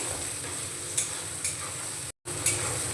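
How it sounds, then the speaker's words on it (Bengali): Chopped onions fry in white oil with cumin in a pan, giving a steady close sizzle with a few light stirring scrapes and one very brief cut-out. "পেঁয়াজটাকে আমি ভালো করে ভেজে নেব।"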